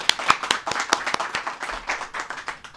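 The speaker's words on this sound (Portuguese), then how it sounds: "Vamos aplaudir o Senhor Jesus?" Lively clapping from a church congregation, fast and irregular, sustained throughout with sharp individual claps standing out near the front.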